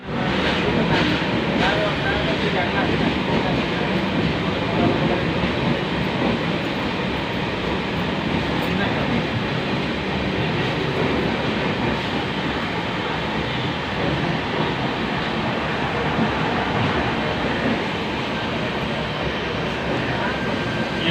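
An intercity superfast express train at Thiruvananthapuram Central station platform produces a continuous loud rumble and roar that holds steadily for the whole stretch, a dense wash of railway noise with no clear breaks.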